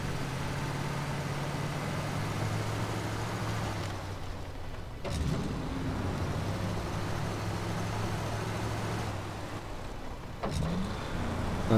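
A truck engine drones steadily while driving in the snow in the game Snowrunner, a continuous low rumble with brief shifts in tone around a couple of moments, no talking over it.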